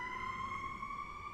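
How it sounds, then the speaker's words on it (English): An ambulance siren wails steadily as it passes, a continuous tone over low traffic rumble with no voices. "There is an ambulance"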